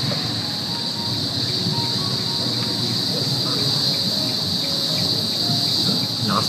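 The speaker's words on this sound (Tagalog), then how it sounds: "Lakas ng kuliglig dito ah." Crickets chirp loudly and continuously near a house, a dense high-pitched trill that fills the whole stretch, with faint background rumble and no talk.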